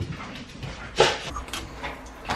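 A dog at home whimpering, a brief high whine that peaks once about midway through, heard close over low household background noise.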